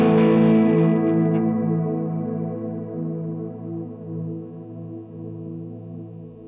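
A cloud effect from a Mvave Mini Universe pedal holds a sustained, shimmering chord that slowly decays. Its bright upper layer fades quickly, leaving a washy, reverberant tone.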